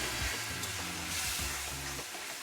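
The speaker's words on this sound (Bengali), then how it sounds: "এই মশলাতে এবার আমরা খুব সামান্য পরিমাণ জল দেব, দিয়ে আমরা মশলাটাকে কষাবো।" Dry spice masala for chicken bhuna sizzles in a hot pan after a splash of water, a continuous close frying hiss over background music.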